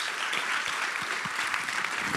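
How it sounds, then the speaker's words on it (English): A crowd claps steadily, a dense, even patter of many hands that holds at the same level throughout. "So a big round of applause to them as we move on to the next stage."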